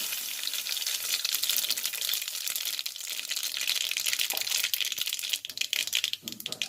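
Mustard seeds and curry leaves sizzle and crackle in hot oil for a steady, close frying hiss with small pops, easing slightly toward the end.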